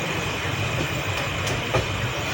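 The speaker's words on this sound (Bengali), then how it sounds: "আর এই 1 ঘন্টা দারুণ স্পিডে ট্রেন চলবে।" The Teesta Torsa Express runs at speed through Murshidabad district, heard from inside as a loud, continuous rumble of wheels on rails with faint rattling.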